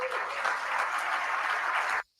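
Applause from a crowd at a groundbreaking event for the A's stadium in Las Vegas, a steady even wash of clapping that holds at one level for about two seconds, then cuts off abruptly.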